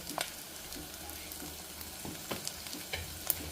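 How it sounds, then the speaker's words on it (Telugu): Pumpkin pieces drop into a hot, sizzling pan for a Telugu pumpkin pulusu. A steady close frying hiss runs throughout, broken by a few sharp clinks and stirring scrapes, with no talking. "సో ఇప్పుడు గుమ్మడికాయ ముక్కలు వేస్తున్నా"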